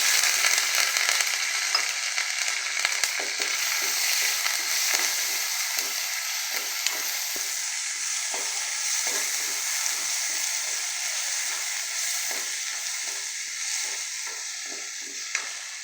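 Urad dal and curry leaves frying in hot oil for a South Indian tempering, a loud, steady close-up sizzle with crackling pops and occasional stirring, no voices.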